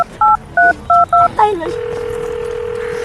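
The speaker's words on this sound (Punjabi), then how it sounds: "ਨੰਬਰ ਮਿਲਾ ਨੰਬਰ ਮਿਲਾ" A phone number is dialed as a quick run of loud, clipped DTMF key tones, then a single long steady tone holds on the line.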